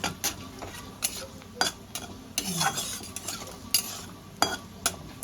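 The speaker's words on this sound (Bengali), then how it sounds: "এবার আমি ভিজিয়ে রাখা মশলাটা আমি দিয়ে দেবো। মশলাটা ভালো করে কষাবো।" A soaked spice paste fries in a pan for a soybean and lentil fritter curry with potatoes, stirred with a metal spoon in irregular scraping strokes and clinks over a faint steady sizzle, close up and fairly quiet.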